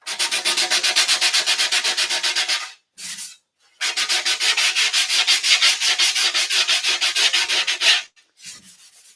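Rhythmic back-and-forth sanding strokes, loud and close, running in two long bursts separated by short pauses.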